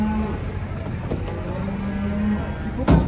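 A big, heavy pregnant cow moos as it is unloaded from a truck, a low, sustained bellow up close over outdoor noise and a faint vehicle hum, ending with a sharp knock.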